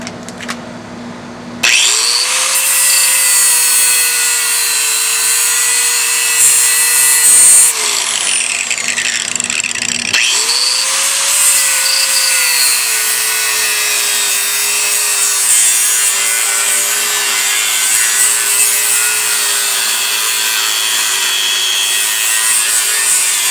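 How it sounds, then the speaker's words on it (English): Power tool cutting through a weld on a trailer shock mount, a loud continuous grinding whine that starts abruptly, breaks off briefly, then resumes steadily and close. "so I'm just going to try and cut that off"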